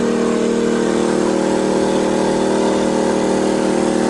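A Weekender 3500i inverter generator runs under load as an electric kettle is switched on, giving a loud, constant engine drone that holds steady throughout, with no talk.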